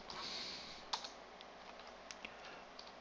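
Someone types a command on a computer keyboard, giving a run of quiet, separate key clicks spread unevenly over a soft background hiss.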